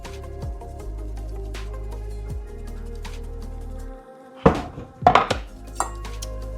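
A knife chops a green jalapeno into pieces on a kitchen board, a quick cluster of sharp, close cuts near the end after a stretch of quieter handling sounds.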